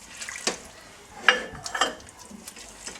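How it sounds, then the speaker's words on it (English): A cup of water is tipped into a pan of chicken rogan josh, a brief splash and sizzle with sharp clinks of a utensil against the pot, all quite close and moderately loud. "Add 1 cup of water."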